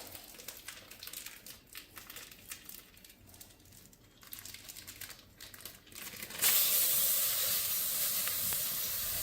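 Packaging for a mincing spatula meat chopper is cut open, giving scattered crinkles and scrapes up close, then a sustained loud tearing hiss toward the end.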